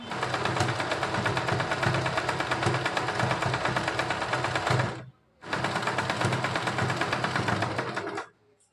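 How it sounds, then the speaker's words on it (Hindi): A sewing machine stitches a fabric strip onto a girl's top, running in a fast, steady whirring chatter for about five seconds, stopping briefly, then running again for another three seconds close up. "अब मैं इसको इसमें ऐसे सिल दूँगी, ऐसे रखूँगी और यहाँ से सिल दूँगी।"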